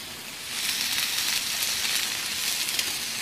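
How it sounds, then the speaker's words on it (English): Venison medallions sizzle in a pan on the stove, giving a steady, close, bright frying hiss that swells slightly and holds without talk. "just leaving it on the stove, allowing the venison to caramelize"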